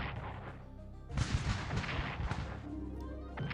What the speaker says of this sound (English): Oh, Russian artillery.